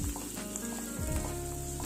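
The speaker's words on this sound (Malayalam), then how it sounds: "അതിലേക്ക് ഒരു 5-6 വെളുത്തുള്ളി ചെറുതായി നുറുക്കിയതും ഒരു കഷ്ണം ഇഞ്ചി ചെറുതായി നുറുക്കിയതും കൂടി ഇട്ട് നന്നായിട്ടൊന്ന് വഴറ്റിയെടുക്കണം" Finely chopped garlic and ginger sauté in hot coconut oil in a pan, giving a steady, close sizzle and crackle with a soft stirring scrape and no talking.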